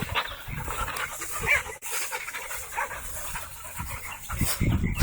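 A happy Vizsla dog on a farm pants and whimpers close by, with steady breathy huffs and short high whines running through the whole stretch, mixed with bursts of movement and handling noise.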